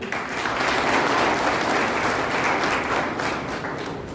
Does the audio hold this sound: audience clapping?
yes